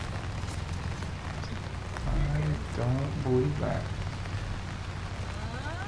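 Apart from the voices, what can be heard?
rain falling on a disc golf course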